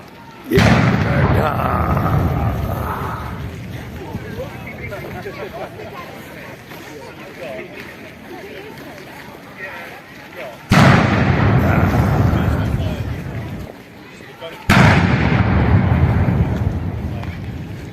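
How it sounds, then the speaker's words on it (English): Live 21-gun salute at Buckingham Palace, London, with three loud booming cannon blasts, the first early and two more close together later, each rolling and echoing away under crowd noise and nearby talk. "Very fortunate to be in Buckingham Palace here and very fortunate to see this live 21 gun salute."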